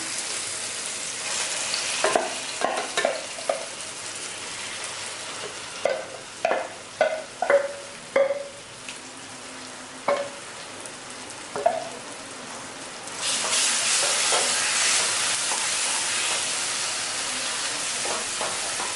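Masala sautéing in oil in a pan for a Chettinad karunai kizhangu masiyal, repeated sharp scraping stir strokes over a constant sizzle that grows louder and hissier near the end, close-up.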